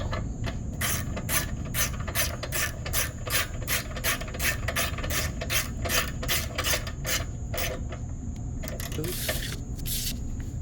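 Ratchet tightening a bolt on the gas tank of a pressure washer small engine, rapid repeated clicking in fast bursts, close and clear, ending with a few looser metallic clicks.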